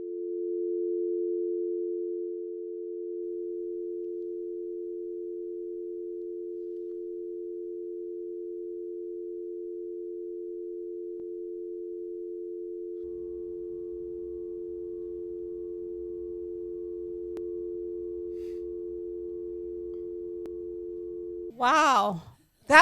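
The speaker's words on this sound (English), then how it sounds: "That, ladies and gentlemen, was called a dial tone." A steady telephone dial tone hums alone for about twenty seconds, clear and unbroken at a moderate level. A faint low background noise comes in partway through, and a voice follows at the very end.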